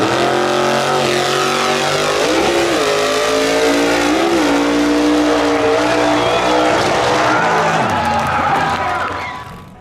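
Ford Pinto drag car at a drag racing event roars down the strip in a wheelie, its engine loud and close with shifting revs and tire noise, a crowd faintly audible beneath.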